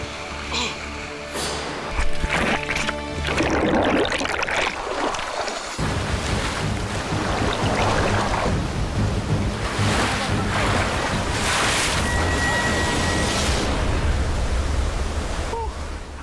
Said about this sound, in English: The force of the river is tremendous. I can feel the current rushing past my legs.